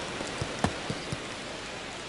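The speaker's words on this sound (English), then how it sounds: "This rain is not letting up" Rain falling on a baseball field during a game, a steady hiss with a few sharper drop-like ticks near the start, heard on its own with no voices.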